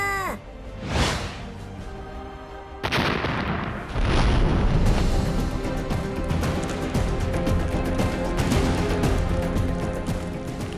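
Loud booming blasts with whooshing launches, a rumbling barrage of missile fire and explosions that builds into continuous heavy roar.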